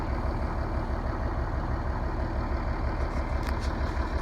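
Scania TGB30 SBA111 military truck with a D11 diesel engine running after a cold start, a steady low rumbling idle that stays close and even, with faint light clicks near the end.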